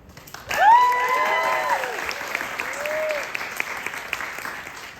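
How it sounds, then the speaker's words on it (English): A theatre audience at a youth summer-intensive musical breaks into sudden applause with a few cheers and whoops, loud at the start and then settling into steady clapping. "Thank you for the applause."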